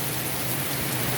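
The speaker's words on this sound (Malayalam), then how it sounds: "ഈ മഴ ഇനി ഇപ്പം ഇങ്ങനെ മാറുമോ ഇത്?" Steady rain pours down in Munnar, Kerala, a dense, even hiss of drops hitting surfaces that stays constant and close throughout, with no voices.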